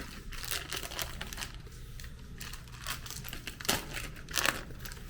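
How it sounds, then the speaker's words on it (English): Plastic wrap being peeled off an ice cream cake, a run of soft close crinkling and rustling with a few louder crackles near the end, heard without talk. "And then you're going to peel off the plastic."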